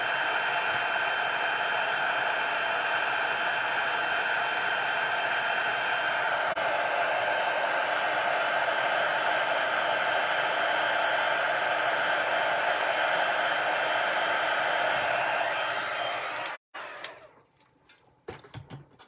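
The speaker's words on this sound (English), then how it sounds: "And I'm going to grab my heat tool." A heat tool set to its second setting blows hot air steadily for card making, a loud constant whooshing that runs unbroken for about sixteen seconds before cutting off, followed by a few faint clicks and handling noises.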